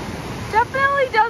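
Steady broadband rushing of a waterfall at Grand Lake, Colorado, heard from the top, with a voice talking over it in the second half.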